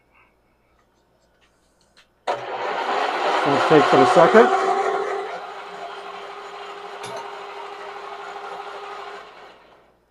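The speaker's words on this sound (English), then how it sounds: "drill a centering hole." A loud grinding, whirring lathe sound with scraping bursts as a bit drills a centering hole in metal, settling into a steady hum, after a brief spoken remark.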